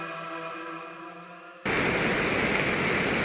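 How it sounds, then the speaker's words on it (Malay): Rain suddenly begins outdoors near a forest logging camp, cutting in abruptly as a dense, loud, steady hiss of falling water that replaces a quieter tonal background and continues unbroken. "Dekat sini pun hujan tiba-tiba turun."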